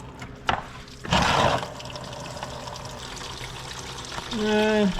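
Coolant and flush water drain and splash out of a 1977 Datsun B210's cooling system during a flush, with a sharp splash followed by a steady close trickle and a brief higher whine near the end.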